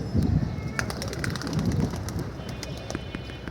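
A pigeon calls in a rooftop loft under a clear sky, low cooing mixed with ambient noise and faint clicks, no talking.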